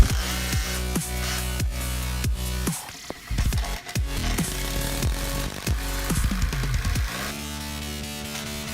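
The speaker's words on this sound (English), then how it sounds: "here I'm using a 3/4 drill bit for the countersink hole for the bolts" Power drill with a 3/4 inch bit boring countersink holes for bolts in a wooden workbench leg, a loud whining motor that drops and rises in pitch as it bites and pauses, close up with no talking.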